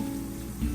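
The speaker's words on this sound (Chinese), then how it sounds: "接下来我们切2片姜，放入热油中，" Two ginger slices sizzling in hot oil make a short, steady, close crackle like light rain, with no voices.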